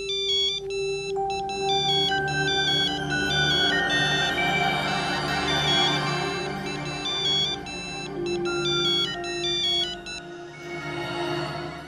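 An electronic phone ringtone plays a bright, repeating melodic pattern steadily for about twelve seconds, loud and close, with no voices.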